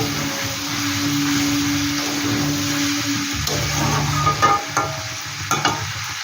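Water pours into a hot pan of shol fish and radish kalia, setting off a steady, close sizzling hiss that keeps bubbling, with a few sharp clinks of a utensil toward the end.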